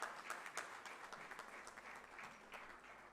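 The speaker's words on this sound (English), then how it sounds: "Can we please have a huge round of applause to welcome Ikhlaq" Audience giving a round of applause to welcome a speaker at a university innovation launch, a steady wash of clapping throughout, fairly distant and faint.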